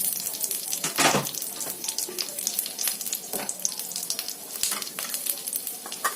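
Green chilli, ginger, tomato, carrot, coriander and curry leaves fry in a pan for a bread omelette, giving a loud, steady, close crackling sizzle with occasional sharper spatters and stirring scrapes, no voices.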